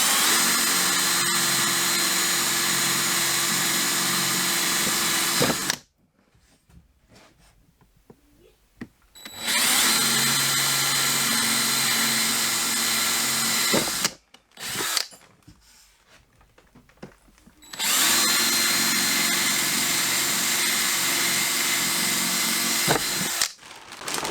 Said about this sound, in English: I have a 1/4 inch drill bit right here, and I'm going to go ahead and go around and drill my holes